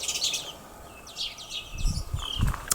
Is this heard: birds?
yes